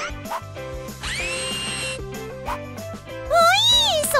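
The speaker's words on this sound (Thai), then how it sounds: "นี่ก็เจาะรูเลยจ้ะ" A power drill bores a hole while building a house, whirring in a sustained burst amid bright musical tones and cartoonish sound effects.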